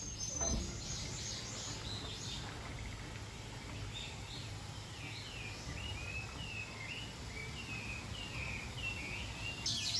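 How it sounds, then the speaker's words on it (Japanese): Small birds chirp and twitter intermittently at a distance at an open-air hot spring bath in Kurokawa Onsen, Japan, over a steady low background hum, with faint insect-like buzzing. "露天湯への扉を開けた途端、小鳥のさえずりが聞こえます。"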